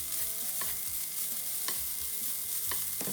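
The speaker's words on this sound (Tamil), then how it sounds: "இப்படி ஒரு 3-4 நிமிஷம் வறுக்க வேணும்" Banana flower poriyal fries and sizzles steadily in a pan, with a spatula scraping and stirring through it in several clear strokes. No one talks.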